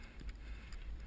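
A mountain bike gear shift clicks on a cross-country trail, with a brief mechanical tick over steady outdoor rumble.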